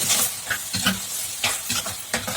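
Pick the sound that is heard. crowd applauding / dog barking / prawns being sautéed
prawns being sautéed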